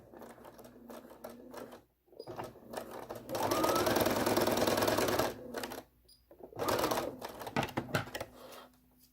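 A sewing machine runs in several short bursts while sewing a quilt seam joining six star points, the longest burst in the middle, with quiet fabric handling between runs, close by.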